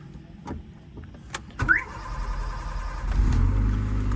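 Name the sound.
car engine starting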